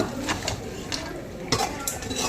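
A utensil scrapes and clinks against a pot of crab curry in several strokes, with a soft sizzle underneath.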